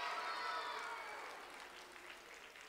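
Children and families at a school Christmas chapel cheer and applaud for a team, a loud burst of clapping and voices that fades down partway through.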